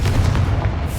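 Fire-blast spell explosion in the Hogwarts Legacy video game, a heavy, dense boom with a sustained low rumble filling the whole moment, loud and close, with no voices over it.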